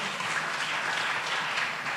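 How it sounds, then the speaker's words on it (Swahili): Church congregation applauding at a Sunday revival service, a steady dense wash of clapping that holds evenly for two seconds with no breaks. "Tuwapigie makofi."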